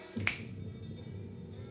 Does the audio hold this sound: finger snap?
yes